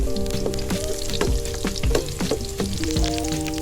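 Curry leaves and then onion dropped into hot oil in a village-style outdoor cookout, crackling and sizzling steadily and close by, with sharp spattering bursts as each batch hits the oil.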